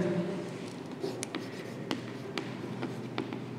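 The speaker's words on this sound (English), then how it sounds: "Let us write also here." Pen or chalk writing during a class 7 science lesson, soft scratchy strokes with light taps at irregular intervals, close and quiet over faint room noise.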